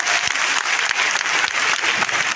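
Loud, dense audience clapping fills a crowded motivational seminar hall, a steady roar of many hands with faint crowd murmur and no clear speech.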